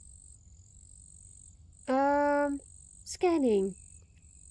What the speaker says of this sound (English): Can hear the crickets.